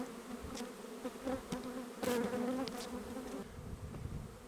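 Honeybees buzz close by on a hive frame, a soft layered hum with individual bees droning in and out, rising and falling in pitch.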